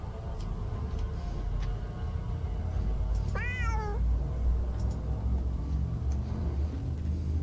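A single drawn-out cat meow, fairly close and clear, rising then falling over a constant low rumble like a running car, with faint ticking in the background.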